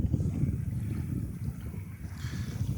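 Wind rushes steadily over a schooner sailing home from the Gloucester Schooner Races past Straightsmouth Island into Sandy Bay, a continuous low, blustery rumble with water wash and no voices.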